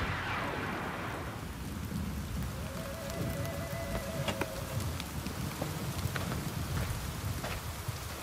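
Steady rain falls outdoors in a wilderness setting, a continuous dense hiss with scattered drops, moderately loud and unbroken throughout, with no voices.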